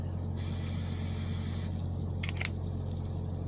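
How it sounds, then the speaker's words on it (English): Cooking spray hisses into the inner pot of an Instant Pot in a brief burst near the end, heard over a steady low kitchen hum with no talking. "We're going to add a little bit of cooking spray to this"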